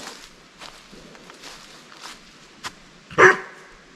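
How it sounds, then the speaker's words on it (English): A single sharp dog bark rings out near the end, after soft footsteps and quiet shuffling sounds nearby. "You're a crazy dog."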